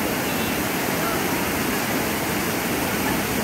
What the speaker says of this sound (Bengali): খুব সুন্দর একটা ঝর্ণা দেখতে পেয়েছিলাম।